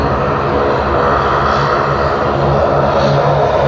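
A fixed-wing airliner takes off at Sydney Airport bound for Canberra, its engines producing a loud, steady roar of broadband noise with a low drone throughout, sustained and close with no talk.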